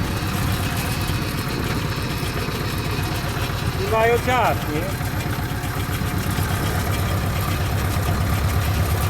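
A steady low diesel engine idles with a rhythmic chug throughout, while someone speaks briefly over it.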